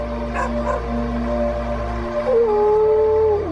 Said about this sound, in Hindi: ये कुत्ता ऐसे क्यों रो रहा है?